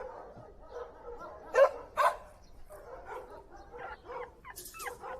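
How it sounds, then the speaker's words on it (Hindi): A dog gives a few short barks and yips at close range amid background sounds, with someone speaking soothingly to it around the barks. "भौंको मत"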